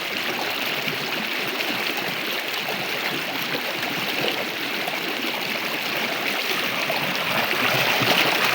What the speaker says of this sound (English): I'm gonna wash my hands because I can't just leave them like this.